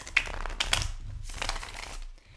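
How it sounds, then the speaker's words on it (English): Tarot cards are shuffled during a love reading. Dry crinkling riffles and rustling bursts come close and fairly loud, in uneven clusters, with no one talking over them. "I'm going to go ahead and shuffle the cards."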